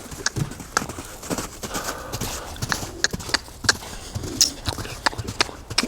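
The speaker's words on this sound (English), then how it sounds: "Let's see if he'll lope off here." Hooves of a young horse loping in the rough, a loose three-beat rhythm of moderate thuds, with faint birdsong around.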